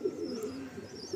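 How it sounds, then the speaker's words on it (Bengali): A male pigeon with deep jamun-coloured feet coos in a loft, a low rolling burble repeating steadily and close, with no voices over it. "এই হলো পায়রা, এটাও একটা মেল পায়রা।"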